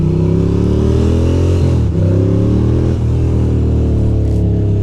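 Ducati Monster 620 motorcycle engine running loud and close, a steady deep rumble with pitch rising and dipping as the throttle is blipped on a cold ride.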